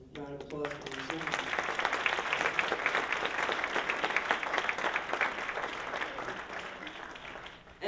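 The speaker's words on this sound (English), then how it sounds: "Round of applause for yourself." Audience applause at a jazz vocal performance in a college hall, broad steady clapping held for the full stretch at moderate loudness with a brief musical tone at the start.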